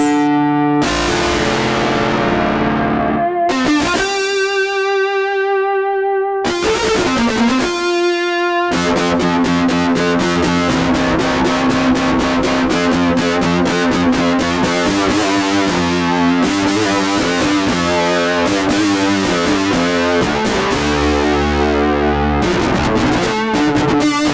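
Distorted electric guitar tones from a sampled guitar played on a keyboard, played continuously, starting with sustained notes then moving into fast rhythmic riffing, loud and close with no talking.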